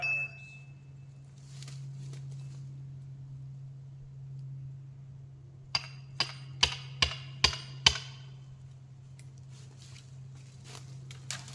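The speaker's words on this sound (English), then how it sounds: "I'm gonna try and hammer this guy out with a sledgehammer and a wedge." A sledgehammer strikes a steel wedge into a log outdoors, six sharp metallic blows in a steady rhythm over a low constant hum, with quieter scuffing before and after.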